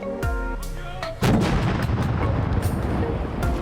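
An artillery gun fires with a heavy, sharp blast, followed by a loud booming discharge and rumbling echo that lingers for a few seconds.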